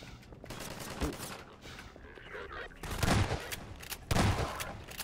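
Gunfire in a Half-Life 2 firefight rattles in bursts. Three louder volleys cut through a steady background of weapon noise, with sharp, close shots standing out.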